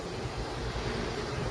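Wind blowing on a cold, wet, dark winter evening, a steady broadband rush with low buffeting gusts across the microphone, continuous and fairly loud throughout.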